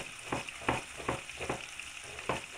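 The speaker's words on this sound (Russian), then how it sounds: "Пока у меня там жарится на одной сковородочке" Pork frying in a hot pan, a hiss of sizzling fat broken by about five sharp crackling bursts spaced roughly every half second, close and moderately loud, with no voices.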